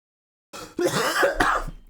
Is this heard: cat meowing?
no